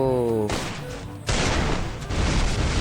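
Rapid bursts of gunfire in a 4v4 shooter video game, with sharp repeated shots and booms in quick succession after a brief tonal sound at the start, loud and close.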